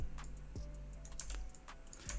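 Computer keyboard keys are tapped a few times in a quiet room, giving soft, close clicks at an uneven pace with no talk.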